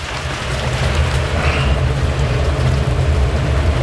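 Steady rain falling outdoors beside a running boiler, a dense continuous hiss with low rumbling underneath, fairly loud and without talk.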